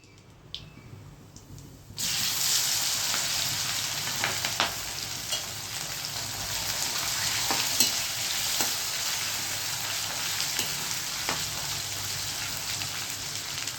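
Cumin, dried chilies and curry leaves hit hot oil for a Gujarati potato khichdi, erupting after a quieter start into a loud, steady sizzle with occasional pops and stirring scrapes throughout.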